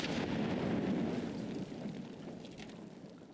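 A frag grenade blast in the game SPT, a heavy rumbling boom that swells at the start and then decays into a long, noisy tail with no talk.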